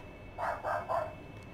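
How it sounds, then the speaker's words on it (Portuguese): Three quick, fairly loud dog barks in a steady rhythm, heard against a faint steady background hum with no talking. "Estão escutando um cachorro aí?"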